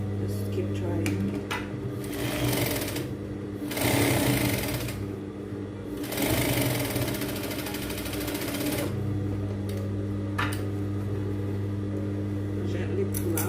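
A sewing machine hums and stitches in long steady runs with short pauses between them, a close, moderately loud mechanical drone.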